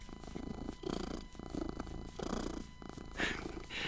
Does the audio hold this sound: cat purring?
yes